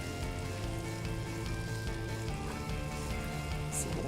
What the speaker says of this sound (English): I'm going to melt 2 tablespoons of butter here.